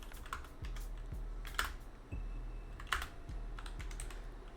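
Typing on a computer keyboard, with soft, fairly quiet key clicks landing in an irregular rhythm over a faint low hum.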